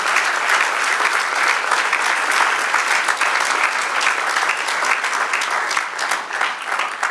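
A church congregation claps steadily during a Spanish-language sermon, dense and loud applause filling the room without pause.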